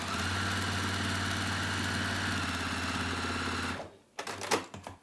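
A sewing machine stitches steadily through the layers of a three-pocket tote bag, a close, continuous motor whir lasting about four seconds before cutting out, followed by a few brief handling clicks and knocks.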